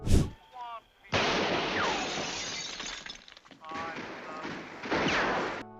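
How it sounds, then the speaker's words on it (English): Sharp bursts of crackling, shattering gunfire-like bangs from firecrackers set off in metal containers, loud and close, with a chaotic rattling tail and some voices mixed in. "Gunshot sounds were made using firecrackers in metal containers."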